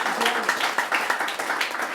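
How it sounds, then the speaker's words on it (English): Audience applause for first-time attendees at a business meeting, a dense, steady wash of many hands clapping at close range, mingled with a few voices throughout. "Let's give you guys a round of applause."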